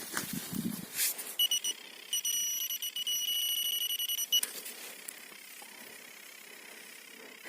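A metal detector's electronic beeping sounds in steady tonal bursts for a few seconds while searching for medieval coins, with rustling handling noise before and after.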